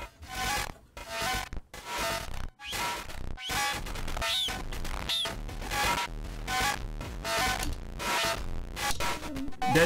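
A Schlappi Engineering Angle Grinder synth module in its low mode puts out pulsing, gritty electronic tones in throbbing bursts, loud and steady, with stuttering rhythmic swells and no voices.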